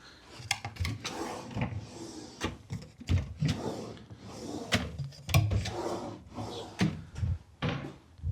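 Repeated wooden knocks and thuds of drawers being slid open and pushed shut, close by, in quick irregular succession.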